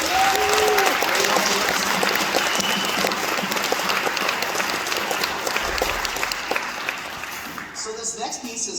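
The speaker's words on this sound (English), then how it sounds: "Can we give them a round of applause again?" An audience at a school concert applauding the 6th grade band, a sustained wash of clapping that thins toward the end as a voice begins over it.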